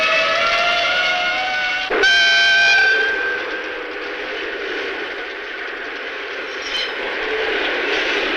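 A train whistle from a 1966 kaiju film gives a sharp tonal blast after a steady mechanical roar, then the rumbling train noise carries on steadily and fairly loud with no talk.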